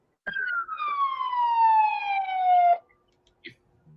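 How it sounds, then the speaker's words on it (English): A single siren wail sweeping steadily downward in pitch, loud and close, lasting a couple of seconds before cutting off, followed by a short faint sound. "There was a siren."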